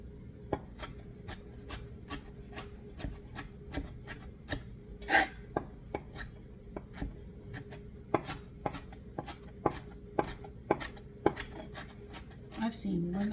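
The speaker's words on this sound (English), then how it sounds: "when I start really chopping it fine" A knife chops rapidly on a cutting board, with sharp, irregular taps in quick succession over a faint background hum.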